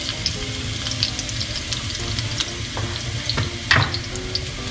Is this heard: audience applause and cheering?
no